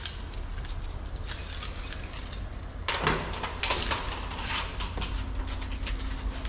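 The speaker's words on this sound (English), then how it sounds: "Let me unlock this door." A key rattles and a lock mechanism clicks as the front door of a Puerto Rico house on Vieques is unlocked and swung open, with creaks and a few sharp clunks close by and steady outdoor ambience behind.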